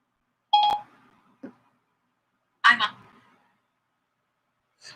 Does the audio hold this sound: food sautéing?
no